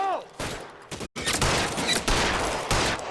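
Gunshots in the video game L.A. Noire on Xbox Series X: a quick run of loud, close shots and bursts packed into a few seconds, with a short gap in the middle and some talk mixed in.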